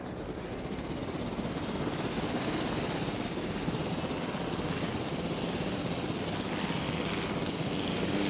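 A helicopter in Jurassic World Evolution flies with a steady, loud rotor and engine drone that holds constant throughout, with no speech over it.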